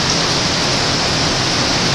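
Heavy hurricane rain pours steadily and loudly, a dense unbroken roar of water beating on trees and surfaces, close and continuous with no voices.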